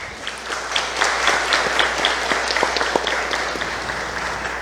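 A church congregation claps for a few seconds during a Sunday service held for baptisms and Mother's Day, a steady, dense patter of many hands with no voices over it.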